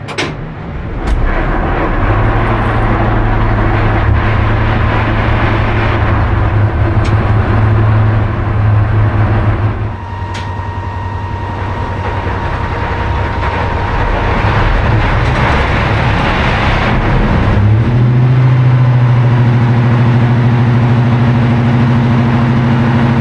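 The Deltic locomotive 55015 Tulyar fires up with a sharp start and settles into a loud, deep, steady diesel idle, the engine note shifting pitch a couple of times as it runs, heard up close and without talk.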